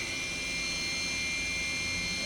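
Spindle of a Matsuura four-axis vertical machining center spinning at 9,000 RPM, a steady high-pitched whine over a constant airy whoosh, loud and unbroken.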